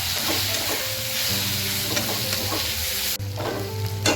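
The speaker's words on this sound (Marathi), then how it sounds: "हिंग टाकायचं थोडा छोटा चमचा आणि हे सगळं परतून घ्यायचं चांगलं" Homemade masala with asafoetida sautéing in a pan for a bitter gourd dish: a steady, close sizzle with scraping stirs throughout, no talking.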